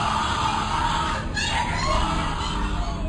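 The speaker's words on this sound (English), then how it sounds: "What you're hearing is the first recording ever made of the Skull and Bones initiation ceremony." Dense, continuous crowd shouting and wailing from a Skull and Bones initiation ceremony, a noisy wall of overlapping voices at steady loudness throughout.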